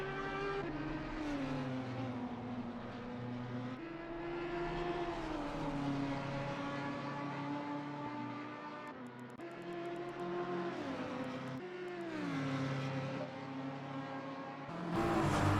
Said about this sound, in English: Setioan still stuck in behind the Audi of Marek Klopsch.